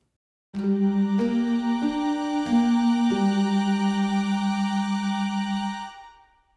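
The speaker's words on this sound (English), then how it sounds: "Here's what it sounds like if you add a major seventh to it." A rich, slightly tense minor triad with an added major seventh, built up note by note, then sustained evenly with a bright, organ-like timbre before ending.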